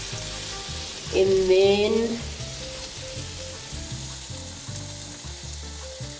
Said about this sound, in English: So you fry that up.